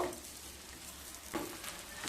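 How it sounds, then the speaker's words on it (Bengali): Onion, ginger and garlic fry in a pan with a soft, continuous sizzle, brief scraping stirs breaking through twice, heard close and fairly quiet. "পেঁয়াজ আদা রসুন হালকা ভাজা হয়ে গেছে।"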